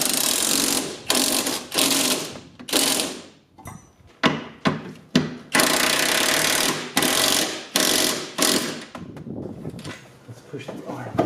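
Suspension parts being tightened on a 1995 Honda Civic EG hatchback, with bursts of loud, close ratcheting and mechanical rattling broken by short clanks and pauses, under occasional talk.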